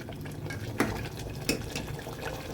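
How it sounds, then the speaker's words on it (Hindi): Spices and meat stirred on high heat in a pan clatter faintly as a spoon scrapes twice against the metal, over a soft background sizzle, with no voices. "मसालों को अच्छे से तेज़ आंच में चलाते हुए भून लेंगे"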